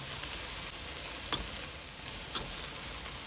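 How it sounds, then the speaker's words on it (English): Onions sizzle steadily in a hot pan for a chicken and mushroom curry, a dense continuous hiss with a couple of faint spoon scrapes, close and even throughout. "since I've been cooking the onions, so I'm going to do another 5"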